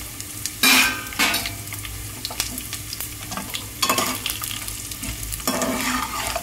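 Dried red chillies fry in a tempering of hot oil for rice ravva upma, crackling steadily with bursts of sizzle and scraping stirs of a spoon in the pan, close and fairly loud.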